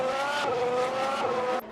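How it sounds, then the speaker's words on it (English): A Formula 1 racing car in a video game spins out at the Canadian Grand Prix, its engine droning steadily while tyres squeal through the rotation, loud and continuous before cutting off abruptly near the end. "he does some unintentional donuts for the fans just before his first stop"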